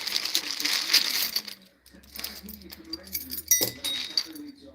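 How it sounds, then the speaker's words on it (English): A bag of keys for a Ford Mustang and Fairlane jangles and clinks in bright metallic bursts, shaken twice with a brief pause between, while someone talks over the rattling. "the bag of keys."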